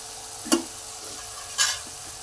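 Two brief bursts of sizzling and stirring as dried fish fries in a pan, over a quiet steady background hiss.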